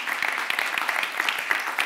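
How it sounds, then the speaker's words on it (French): Applause from an audience after a documentary screening about mRNA, a short burst of dense clapping with individual claps audible, moderately close and alone without talk. "Applaudissements totalement mérités."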